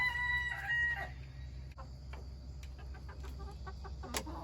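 A rooster crows at moderate distance while scattered chicken clucks and a low steady hum fill the background.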